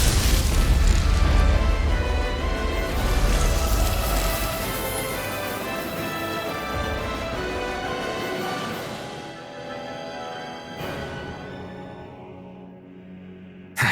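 A Lightning Tiger Blade special attack in the action RPG Tales of Arise lands as a dense, loud burst of booming impacts and crackling energy that rolls on for several seconds, then thins out into a fading tail with a sharp hit at the very end.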